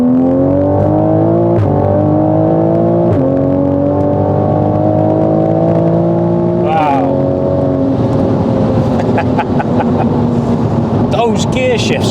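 A 700hp Toyota Supra accelerates hard from inside the cabin, its loud engine note climbing steadily and dropping sharply at several quick, snappy gear shifts, with people talking over the engine.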